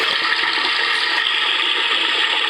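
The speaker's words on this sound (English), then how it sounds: "This is actually designed to make the sound of the toilet so that people can't hear you piss." A Japanese toilet sound-masking device plays a recorded flushing sound, a steady close hiss of rushing water that holds evenly throughout with no speech.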